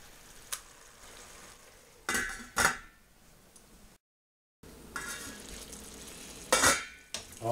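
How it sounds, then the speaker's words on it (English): A fish, cheese and seafood stew bubbles in a skillet with a quiet, steady sizzle, broken by a few loud scraping, clinking utensil strokes against the pan and a brief gap of silence. "put in the cheese, and then everything's just gonna simmer"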